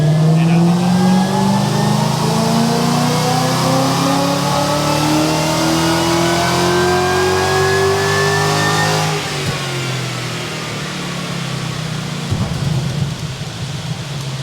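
Supercharged 5-litre Ford Barra engine on a dyno, loud and close, its pitch climbing steadily in one long sweeping rev before dropping off and settling into a rough idle.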